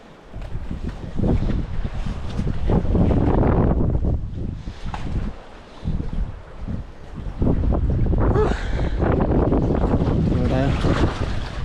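Strong gusty wind buffets the microphone throughout, a loud roaring rush with brief lulls, outdoors near open water.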